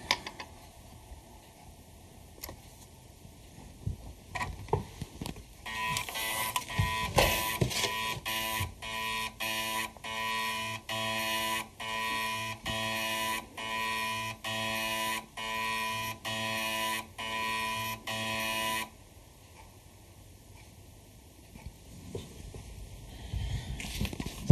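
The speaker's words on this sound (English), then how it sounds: "we're going to go to Calibrate. And we'll start hearing some strange noises as it does its thing." Mac 400k/800k floppy drive calibrating through a Kryoflux, giving a steady run of rhythmic mechanical buzzing pulses with a tonal whine, fairly quiet and close, bracketed by faint clicks and handling sounds.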